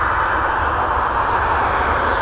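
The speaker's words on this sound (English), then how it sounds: "we're heading over to Liverpool now with this Boeing 737" A Boeing 737 jet airliner, registered in 2009, departing Dublin Airport, heard as a steady, loud, broadband engine roar with a deep low rumble, continuous and unchanging throughout with no voices.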